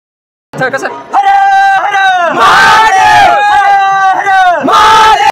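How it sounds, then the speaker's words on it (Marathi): A group of friends shouts together in a crowded temple queue on Mahashivratri at Vaidyanath, with loud, sustained, chant-like yells rising and falling in waves, close and forceful. "कसे ओरडू लागले बघ"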